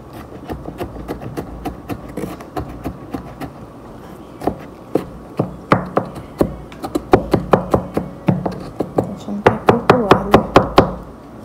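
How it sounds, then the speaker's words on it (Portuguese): Garlic being chopped with a knife on a board, a run of sharp, irregular taps that starts sparse and grows faster and louder into quick bursts toward the end, close and clear. "eu gosto de picar o alho assim, ó, bem"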